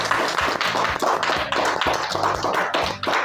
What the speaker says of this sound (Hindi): चलिए, जोरदार तालियां हो जाए भाई एक बार।